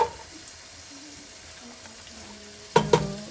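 Carrots tipped into a hot frying pan as a broccoli beer cheese soup gets started, giving a low steady sizzle that jumps into two sharp, loud bursts of clatter and hiss near the end, with no talking.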